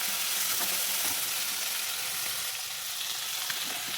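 Flat beans frying with salt in a pan, a steady close sizzle with faint stirring scrapes throughout.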